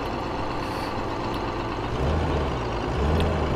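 Tractor engine in the Farming Simulator 15 video game runs as a steady, loud low drone, with its rumble growing heavier about two seconds in and again near the end.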